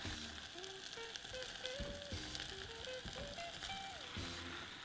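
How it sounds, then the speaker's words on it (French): Onions, crushed garlic-ginger and diced tomatoes fry in a saucepan for rougail saucisse, a steady close sizzle with faint stirring scrapes running throughout. "Quand on voit que le tout a bien commencé à colorer, on rajoute nos dés de tomates et on mélange."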